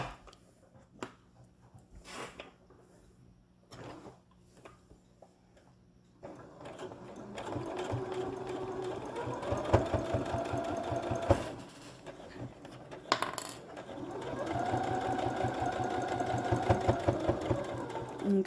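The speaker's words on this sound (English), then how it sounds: "you're going to make a straight line stitch all the way down here" A sewing machine runs a straight-line stitch through layered fabric for a three-layer face mask, starting after several seconds of quiet clicks and then humming steadily and close, with a short pause before resuming.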